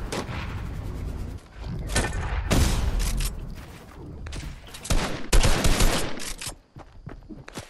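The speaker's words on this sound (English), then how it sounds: "That's me that's shooting that revolver." Revolver gunfire in Fortnite amid a chaotic firefight, loud bursts of shots and impacts overlapping with other weapons, punctuated by brief pauses.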